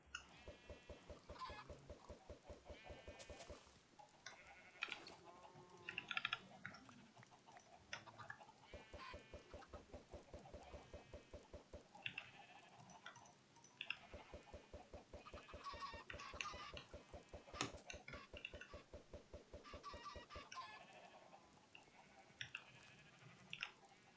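Minecraft chickens cluck in short repeated bursts, fairly faint and alone, with occasional bleating animal sounds from the game mixed in.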